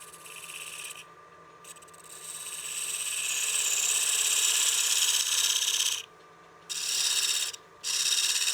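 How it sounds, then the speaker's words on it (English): Skew chisel cutting a recess into a wooden platter spinning on a lathe, producing a steady scraping, rasping hiss that swells over several seconds and then breaks off in short interrupted passes, close by. "I'll go to my skew to give myself a nice clean recess."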